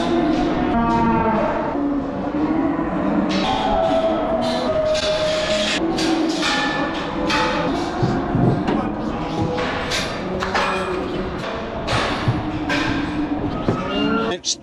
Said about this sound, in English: Three cattle, three coos.